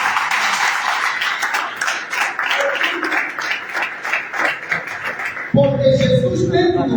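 A church congregation at a leadership conference applauds in a steady, dense patter of many hands, and then a loud voice cuts in near the end.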